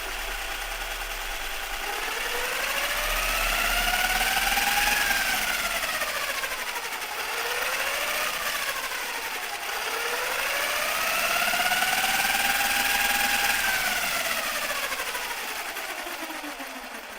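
An HPI Maverick Quantum MT RC truck's electric motor, thought to be failing, whines steadily with repeated rising and falling pitch sweeps as it speeds up and slows down, moderately loud and continuous with no talking.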